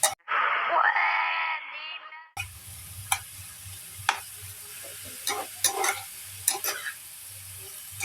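A spoon stirs dabong, bamboo shoots, in a sizzling frying pan, with scraping knocks and clatter over a steady frying hiss after a brief squealing burst at the start.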